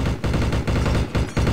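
Rapid machine gun bursts fire in a shooter video game, loud and close, in three or four dense volleys separated by brief gaps.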